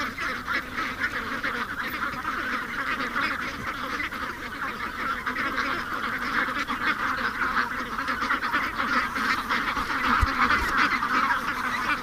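A flock of ducks, some wild, chattering and quacking steadily and close by at a shoreline home, a continuous overlapping babble of calls with no one speaking.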